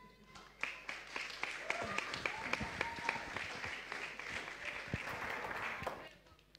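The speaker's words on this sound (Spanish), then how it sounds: "un fuerte aplauso para ellos" An audience applauds performing arts students at a campus show, with dense, steady clapping building quickly and holding for several seconds before tapering off, with voices faintly mixed in.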